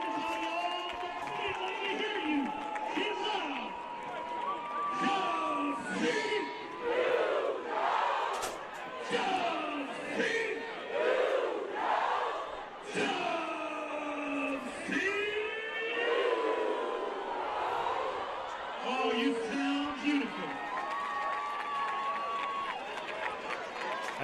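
Crowd noise at a high school football game between Hopewell and West Charlotte, a steady roar of spectators rising after a long touchdown run, with announcers talking over it throughout.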